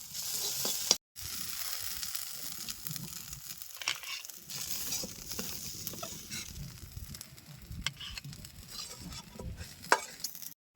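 Onion and garlic frying in a pan for a village-style fish dish, a continuous close sizzle with stirring scrapes and occasional louder crackles, no voices present.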